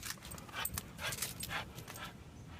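A dog breathes in quick, steady pants with faint whimpers mixed in, close by and fairly quiet, without talk over it.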